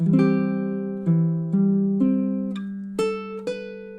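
Baritone ukulele picks out measure 5 of a song, a sequence of clear plucked notes in steady time, each sounding and ringing into the next, played alone and close.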